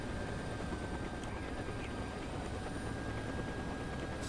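Steady rotor and turbine drone of an EC-665 Tiger attack helicopter in a combat game, a constant dense whirr that holds level throughout with no pauses.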